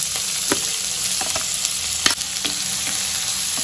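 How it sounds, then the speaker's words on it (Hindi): Chopped onion frying with cumin in hot oil, a loud continuous sizzle close by, broken by a few soft stirring scrapes and taps. "तो जीरा हल्का सा भूनते इसमें मैं डाल दूंगी बारीक चॉप किया हुआ ऑनियन"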